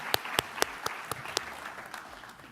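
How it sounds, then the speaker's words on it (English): An audience at a climate storytelling panel gives a short burst of applause, about six distinct sharp claps standing out before fading into a softer patter, under faint background noise. "Please give a round of applause."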